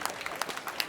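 An audience at an outdoor show in Piazza Manzoni, Jesolo, claps briefly, with scattered sharp hand claps close by in a short, uneven burst.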